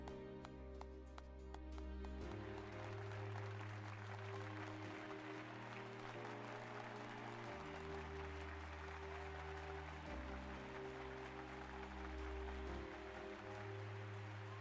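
Rapid clapping in the video game Final Fantasy XIV rattles over a steady, droning musical backdrop, continuing without pause from start to finish.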